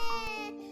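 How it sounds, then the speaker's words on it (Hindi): A baby cries in a short, loud wail with a tonal, harmonic pitch, heard alone during a Hindi horror story about a witch's ghostly child in a forest. "तभी जंगल में उन्हें किसी के बच्चे के रोने की आवाज सुनाई देती है।"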